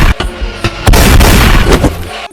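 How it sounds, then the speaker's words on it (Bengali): Gunshots fired at a monster in a video game: loud, booming blasts, a couple of short bangs followed by a longer sustained burst of firing, close and dominant. "আমি এখন ভয়ঙ্কর নুবরের গায়ে গুলি মেরে দিই"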